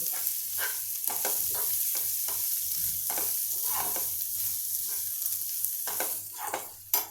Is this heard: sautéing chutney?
yes